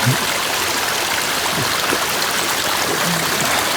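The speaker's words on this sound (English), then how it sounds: "little shelf rock ledges and stuff for the water to run down" A stream on a hiking trail along the Duck River in Cullman, Alabama runs down little rock ledges, making a steady, loud, close rushing wash with no voices.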